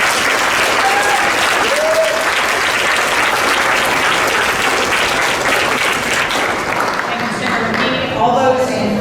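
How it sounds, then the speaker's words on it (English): Loud, sustained applause fills a state Senate chamber for a college men's basketball team. Many hands clap steadily throughout, with a brief vocal sound near the end. "So if we can give them a round of applause,"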